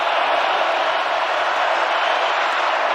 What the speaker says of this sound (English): crowd is roaring as Herbert tries to quiet him